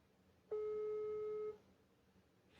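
A single telephone ring tone on a call-back, a steady electronic tone lasting about one second, clean and fairly loud over a quiet background.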